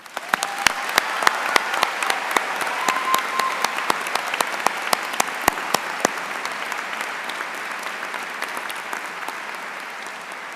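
Applause at a high school graduation ceremony, with a few sharp individual claps standing out at the start before a steady crowd of clapping carries on evenly and begins to thin at the end.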